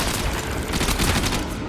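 Dense, continuous burst of gunfire in the video game Warframe, rapid shots blending into a loud, sustained rattle with no pauses.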